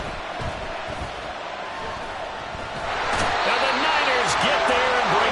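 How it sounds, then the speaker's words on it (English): Football stadium crowd cheering ahead of a big third down, a broad continuous roar that swells louder partway through, with voices talking over it. "The crowd getting into it as we come up on a big 3rd down"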